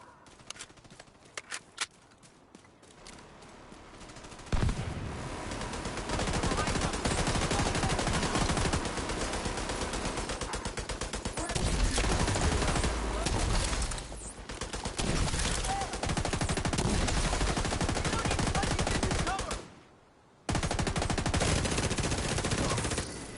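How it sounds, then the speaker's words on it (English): Gunfire in The Division 2 on PlayStation 5: sustained loud automatic bursts and rattling volleys, starting after a few quiet seconds and running almost continuously, broken by a brief lull near the end. "A bullet just almost hit me."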